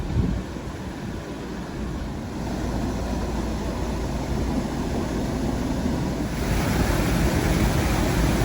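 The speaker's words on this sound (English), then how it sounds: "the water is absolutely cascading over the top of those gates" Water cascades over the top of narrowboat lock gates at Lower Ringstead lock on the River Nene, a loud, continuous broadband roar that swells slightly partway through, with no voices.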